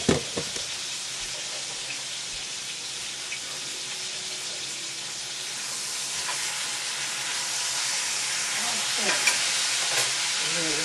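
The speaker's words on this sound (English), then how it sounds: "As you can hear, our meat is browning really well" Pieces of top sirloin for a stew sizzle and brown steadily in a hot pan, a dense bright hiss with small pops and spatters that builds a little louder over time, with no talking.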